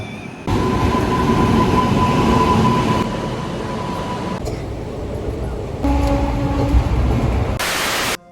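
Aboard a local commuter train bound for Sealdah station, a loud, continuous rumble of wheels and carriage fills the space, with a faint steady tonal whine and shifts in the noise as the ride goes on.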